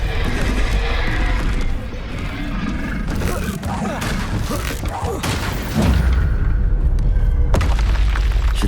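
Repeated Bombarda spell blasts in Hogwarts Legacy, dense rumbling booms and crackling impacts amid continuous combat noise, with brief spoken incantations.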